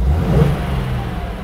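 A car with a 3-litre straight-six engine of 215 hp idles while stationary with a low, steady rumble and a brief rev near the start, loud and close, with no voices.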